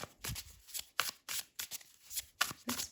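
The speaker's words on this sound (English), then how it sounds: "I love riffle shuffle. I can't just stop riffle shuffling." Tarot cards being riffle shuffled at close range, a series of quick crisp fluttering bursts in an uneven rhythm with short gaps between, no voice over them.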